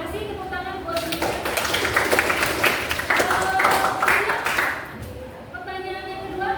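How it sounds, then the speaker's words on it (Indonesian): Classroom applause for a student group during an informatics lesson, a dense patter of hands filling most of the stretch before thinning, with a voice talking briefly at the start and end. "tepuk tangan buat mereka"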